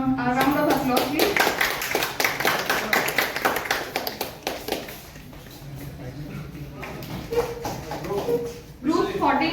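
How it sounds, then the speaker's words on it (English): A college hackathon audience at USBM College gives a round of applause, crisp rapid clapping that starts strong and gradually thins out, followed by a voice speaking near the end. "a huge round of applause"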